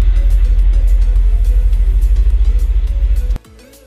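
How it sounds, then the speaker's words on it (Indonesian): A car's engine rumbles loud and close outside a phone repair shop, a heavy low throb with pulsing revs that cuts off abruptly near the end, leaving a quieter background. "suaranya mobil itu memang betul-betul ya."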